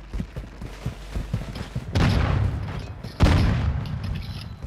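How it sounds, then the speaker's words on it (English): Heavy booming blasts from a grenade explosion in a video game firefight, two big detonations rolling out after a stretch of lighter thuds and clatter, loud and close. "Throwing grenade!"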